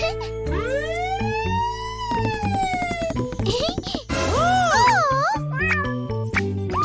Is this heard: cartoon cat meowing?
yes